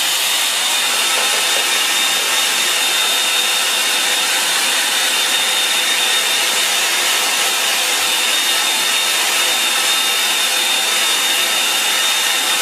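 Hair dryer blowing steadily on a watercolour painting, a loud continuous whooshing roar with a thin whine that holds unchanged throughout, no talking.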